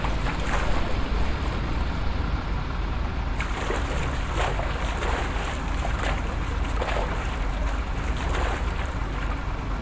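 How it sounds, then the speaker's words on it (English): A J-3 Cub floatplane being paddled on water in a flight simulator, with steady rushing water and wind noise and a few soft splashes, close and fairly loud with no talk. "Yeah, I'm paddling."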